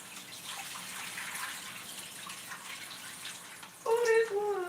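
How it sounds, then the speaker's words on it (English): Water is poured out of a cooking pot while making chicken curry, a steady, close rushing splash that runs for several seconds before a voice briefly speaks near the end. "Let me pour this water out of here."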